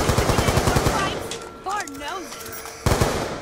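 Rapid bursts of automatic A94 rifle fire in Black Ops 3, loud and close. The fire stops for a moment while a warbling electronic game tone plays, then the shooting resumes.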